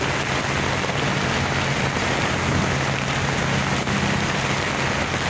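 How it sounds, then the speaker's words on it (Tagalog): Heavy rain pouring down steadily over Manila Bay, a loud dense hiss of drops hitting surfaces with no voices. "Grabe, oh, lakas ng ulan,"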